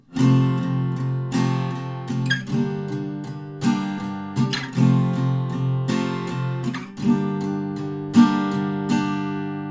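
Fingerpicked acoustic guitar plays the intro of a song as a series of ringing chords, each plucked note sustaining into the next in a steady, gentle pattern.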